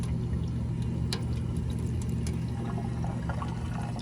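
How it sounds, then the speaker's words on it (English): Water running from an old high school drinking fountain, a loud, steady close-up stream with a low hum beneath it, continuous and without voices. "I remember these drinking fountains,"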